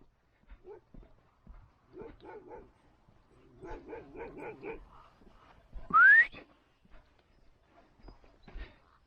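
A Kangal dog barks in a short run of yelps and woofs, followed by a sharp rising whistle and a few fainter barks.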